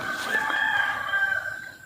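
A rooster crowing on a cold, misty morning, one sustained call heard from a moderate distance over faint background ambience.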